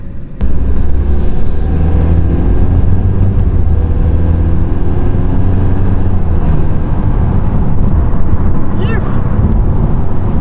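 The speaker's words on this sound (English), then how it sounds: "This car is really fun to drive though." BMW car with an N20 engine driving at normal running temperature, a steady loud engine drone and road rumble continuing throughout without a break.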